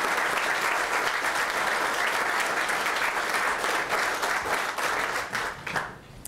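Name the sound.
standing applause for John Sturgeon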